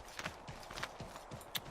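Horse hooves clip-clop at a steady trot in the Assassin's Creed 3 video game, a faint, evenly spaced rhythm of hoofbeats with no talk over them.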